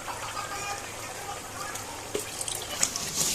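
Liquid pours steadily into a pot of pumpkin payasam as rice flour mix and coconut milk are added, a close continuous watery rush with small splashes and drips toward the end.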